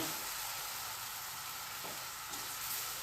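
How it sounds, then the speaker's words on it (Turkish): Creamy pasta sauce being stirred in a pan after pasta water is added, a steady close sizzle and bubbling frying hiss running continuously with faint scraping of the stir. "Ve karıştırıyorum."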